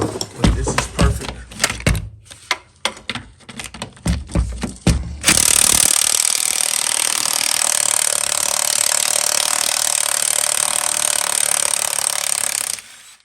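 An air ratchet rattles loose bolts on the rear AC line of a 2007-2014 Chevy Suburban, first in short bursts and then as one long, loud continuous run close to the mic.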